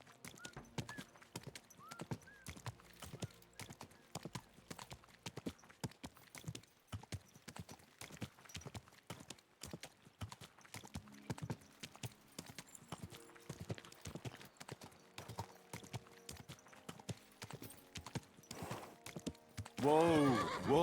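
Horse hooves clip-clopping in a steady rapid rhythm for a long stretch, ending in a loud close neigh, with a voice calling out now and then.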